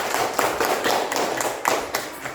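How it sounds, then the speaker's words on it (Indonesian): Classroom of students applauding their classmates during a lesson, a dense patter of claps with uneven bursts, fairly close and steady, no talk over it. "tepuk tangan dulu untuk semua"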